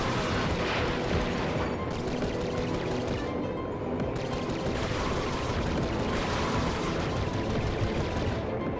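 Enemy gunfire in Ratchet & Clank: Going Commando sounds as a steady, dense barrage of shots and blasts that runs the whole time, loud and continuous, with repeated bursts layered over a rumbling game soundscape.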